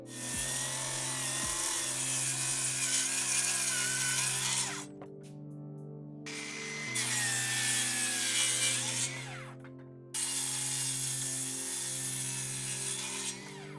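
A power saw cuts through a sheet of plywood in long, loud, whining passes, stopping twice with brief motor run-down between the cuts.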